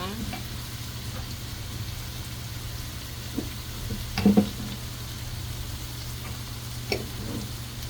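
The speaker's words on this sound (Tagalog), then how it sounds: "Konting fry lang ang gagawin." Chopsuey vegetables stir-frying in a pan with a steady, soft sizzle throughout, punctuated by a few scraping stirs and clinks of the utensil against the pan, heard alone without talk.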